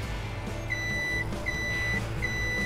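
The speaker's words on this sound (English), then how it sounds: "My god, so loud. The beeping is so loud." A Vario 1000 farm vehicle in the video game Farming Simulator 17 sounds its reversing alarm: three loud, evenly spaced high beeps over a steady rumbling engine drone.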